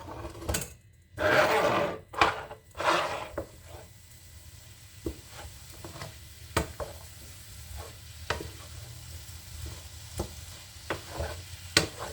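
Onions sautéing in oil in a pan, with a soft sizzle under repeated scraping and stirring strokes, louder bursts early, then quieter intermittent taps and clicks of the utensil.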